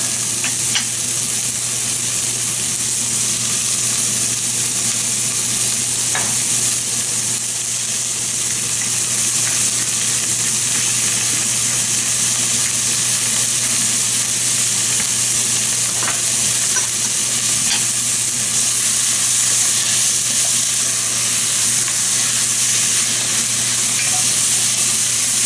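Vegetables fry with a steady, loud sizzle as they are stirred in a pot for a keto goat stew, alone and continuous throughout.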